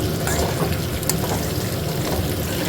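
Curry leaves roast in a hot pan, giving a steady, close crackling sizzle with small pops throughout, no talking over it.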